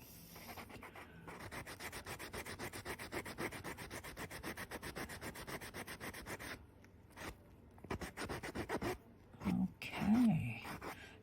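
Close, rapid back-and-forth rasping of sanding on a small polymer clay ring goes on steadily, pauses briefly, then resumes, with a short murmur near the end.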